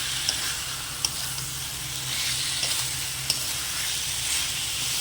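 Ivy gourd (kundri) sautéing with masala in a pan gives a continuous close sizzle and frying hiss, with a few sharp spatula taps breaking the steady sound, and no one talking.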